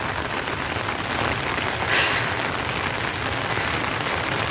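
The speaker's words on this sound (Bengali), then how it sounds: "কিন্তু এত বৃষ্টি এত বৃষ্টি যে কি বলবো" Heavy rain pours down in a steady, loud, dense hiss, unbroken from start to finish with no voices.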